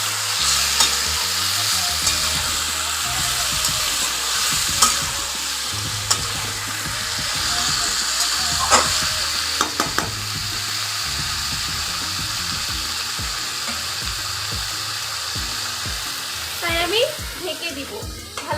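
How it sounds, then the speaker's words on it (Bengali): Chicken liver and gizzard, seasoned with salt and turmeric, fry in a pan with a steady, close sizzle, broken by repeated spatula stirs and scrapes throughout. "এগুলো একটু ভেজে নিতে হবে।"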